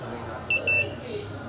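A multimeter beeps while testing a capacitor: two short, high, electronic beeps in quick succession, the second slightly longer, over faint background chatter.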